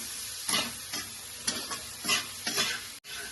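Spice paste with a generous spoonful of coriander powder frying for a Bengali chachchari in a home kitchen, sizzling in bursts as a spoon stirs it round the pan, each scrape followed by a brief hiss, no voices.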